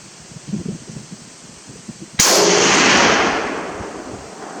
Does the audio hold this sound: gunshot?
yes